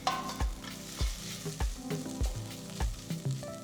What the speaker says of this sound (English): Add the onions to the cooker, add 1 green chilli slit, saute it till the onions turn golden brown.